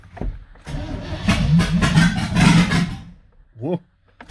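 An OBS Chevy drift truck with no throttle cable hooked up cranks and starts for the first time, the engine catching and running roughly for a couple of seconds before dying, recorded close by.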